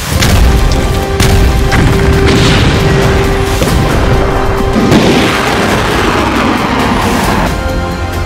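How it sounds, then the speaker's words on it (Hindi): Loud, dense battlefield booms from Tejas fighter jets striking enemy tanks during a live-fire military exercise at Pokhran, heavy rumbling blasts rolling continuously with sharp cracks near the start and around the middle. "तेजस ने उड़ाए दुश्मन के टैंक"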